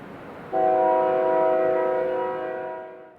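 A westbound double-stack freight train led by an unrebuilt AC44CW locomotive sounds its horn at Dolton Junction. The chord sounds once, loud and sustained, then fades after about three seconds.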